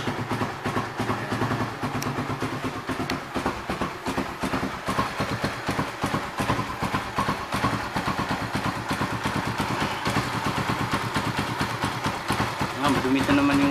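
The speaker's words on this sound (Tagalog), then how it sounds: "Bali paanda rin natin ngayon dito para painitin kahit mga 5 minutes." A Suzuki Raider 150 Fi motorcycle idles to warm up, its engine putting out a steady, rapid single-cylinder putter close by, with someone talking over it the whole time.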